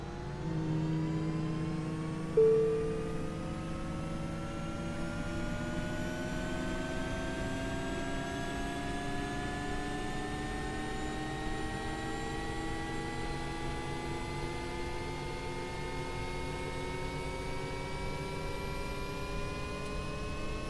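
Airbus EC135 helicopter turbine engine starting up, a rising whine that climbs steadily in pitch over about twenty seconds as the rotor blades begin to spin, with a brief clunk early on, heard alone and fairly close.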